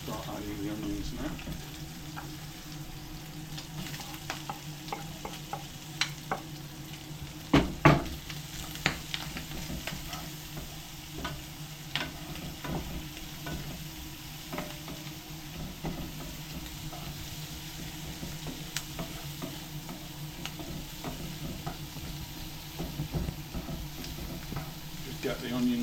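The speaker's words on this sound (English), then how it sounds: "bacon's well on the way there, so I'm going to start adding the onions now" Onions sizzling with bacon in a frying pan for a leftovers omelette, a steady close crackle with occasional sharper pops and stirring clicks throughout.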